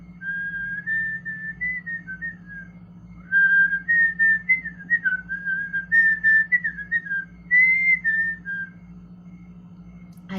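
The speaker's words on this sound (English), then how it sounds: "Do you whistle inhaling, though?" A person whistles a wavering, sustained tune while inhaling, in several long phrases with short breaks, over a steady low hum.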